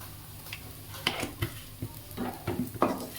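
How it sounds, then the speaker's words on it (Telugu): Turmeric frying with onions in a non-stick pan, heard as faint intermittent scraping and stirring clatter over a low, soft sizzle. "పసుపుని జస్ట్ ఒక అర నిమిషం పాటు అలా ఫ్రై చేసుకోవాలి"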